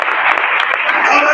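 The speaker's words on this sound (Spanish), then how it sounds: "Denle un aplauso a Jesucristo." A church congregation claps during a Spanish-language sermon, a dense, loud, continuous burst of applause with voices calling out over it.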